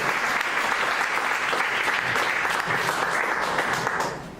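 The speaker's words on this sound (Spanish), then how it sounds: "Den una ofrenda de palmas al Rey de Reyes y Señores de Señores." Church congregation applauding steadily for about four seconds, a dense, sustained wash of clapping that fades slightly at the end.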